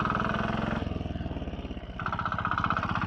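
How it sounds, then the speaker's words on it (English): A rare Royal Enfield single-cylinder motorcycle revs up through its gears, a loud close thumping engine whose pitch climbs, drops at each change, then climbs again, with no talk. "So I've got to try and keep the revs up, just like the other Royal Enfield."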